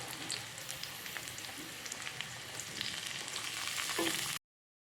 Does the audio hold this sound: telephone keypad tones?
no